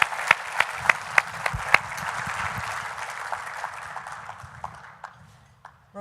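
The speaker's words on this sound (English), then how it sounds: "All right, round of applause for that category." Applause at a workplace ergonomics awards ceremony, a few sharp, loud nearby claps over a broad crowd patter that gradually fades away, ending in near quiet with one last burst.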